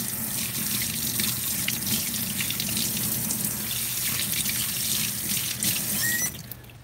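Steady tap water runs hard into a sink while something is rinsed off under it, a loud continuous hiss and splash that stops abruptly near the end.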